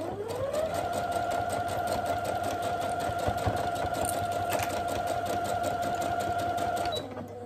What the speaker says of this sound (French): je vais faire une couture ici, point avant, point arrière, à 1 cm du bord